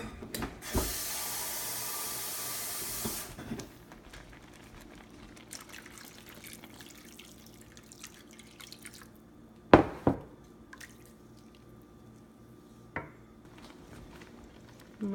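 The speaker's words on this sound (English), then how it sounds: "And a little bit of water." Water poured into a pan of pastina gives a short, bright splashing rush of about three seconds, followed by quiet with a few faint clinks and drips.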